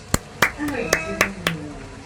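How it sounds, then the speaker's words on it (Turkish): A few sharp separate hand claps, about six spaced across the moment, with a voice talking between them on a comedy show stage. "Bravo alkış."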